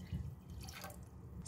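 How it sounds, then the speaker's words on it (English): Water poured into a pot of fresh ginger for tea, a steady liquid splash and trickle with dripping sounds, close by and moderately loud throughout. "Add in 2 liters of water."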